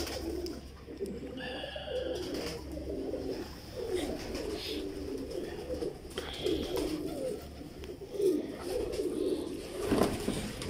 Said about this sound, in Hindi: लाल परी कबूतर मलिक मोहकम खोकर साहब के,